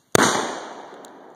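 A single loud gunshot cracks during night shooting with an old-school firearm, a sharp close report followed by a long ringing echo fading over a second, then a faint second pop in the distance.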